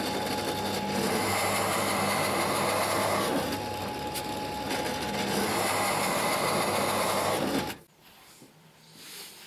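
Power drill boring holes with a 16 mm bit into a wooden firewood trolley, a loud continuous grinding whir for about eight seconds that stops abruptly, leaving a quiet room.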